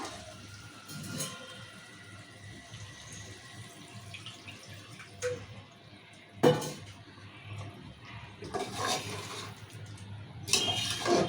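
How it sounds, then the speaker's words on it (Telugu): Water is poured into a pot of mutton curry cooking in oil. A few separate splashing bursts stand out over a quiet kitchen background, the strongest arriving in the last several seconds. "ఇప్పుడు కొన్ని వాటర్ పోసుకున్నాం ఇలా"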